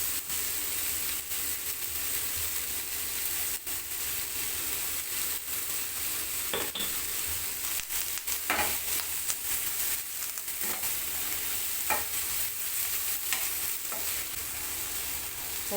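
Ingredients sautéing in a pan give a continuous loud sizzle, with intermittent scrapes and knocks of a stirring spoon spread irregularly across the stretch.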